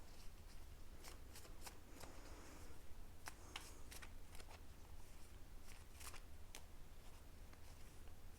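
Tarot cards being shuffled, a faint steady riffle with a series of crisp snapping flicks spaced irregularly across the clip.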